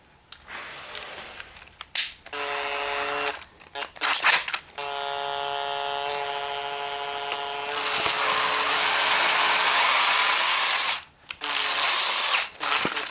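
A power tool whirs steadily while 30-30 Winchester brass cases are resized, deprimed and trimmed, its loud motor hum running in long stretches with brief stops and clicks between cases.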